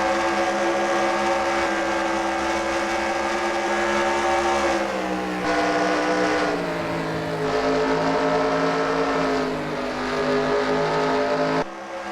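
Race car engines roar at Pocono in a racing video game, a continuous loud droning whine that shifts pitch as the cars accelerate and lift, with several engines overlapping.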